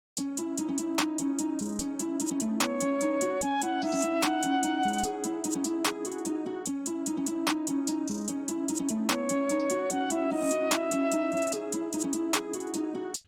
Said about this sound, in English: my own hi-hat pattern